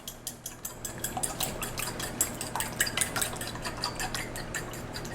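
Eggs being whisked in a bowl for fried grits, with a steady run of light, rapid clinks and taps of utensil against the bowl, close and continuous, with no talking.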